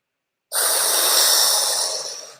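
One long, slow breath out during guided relaxation, a soft airy hiss that starts suddenly after silence and fades gently, close and alone.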